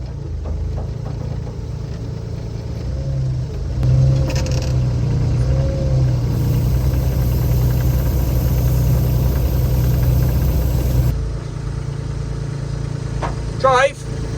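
A digger's diesel engine runs steadily while the machine drives across grass to move pigs, a continuous low rumble throughout with brief shouted voices over it.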